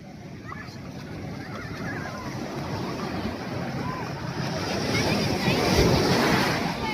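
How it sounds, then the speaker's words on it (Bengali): Big ocean waves roll in at crowded Swargadwar beach in Puri, a broad continuous surf roar with wind noise that swells louder toward the end. "আর এই বড় বড় ঢেউ আসছে, দেখুন এই বড় বড় ঢেউ।"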